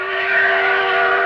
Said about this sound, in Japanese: 力は機関車よりも強く、